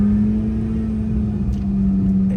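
A Corvette engine at a car rally holds a steady, deep humming note up close, fairly loud and unbroken for a couple of seconds.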